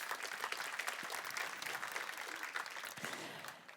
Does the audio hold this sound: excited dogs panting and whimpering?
no